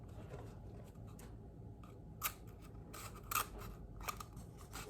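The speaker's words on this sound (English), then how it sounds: "we can take our scissors again and we can trim it" Scissors trimming the edges of paper in a quiet room: a series of crisp, close snips in quick bursts, with short pauses between the cuts.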